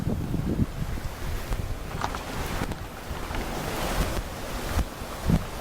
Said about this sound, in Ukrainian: Річка шуметя.